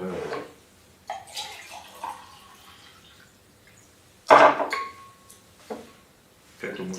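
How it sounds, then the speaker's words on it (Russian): Water poured from a jar into a homemade plastic bottle water filter, a splashy pour that starts suddenly mid-way, trickling and dripping around it with speech heard before and after. "и наливаем воду."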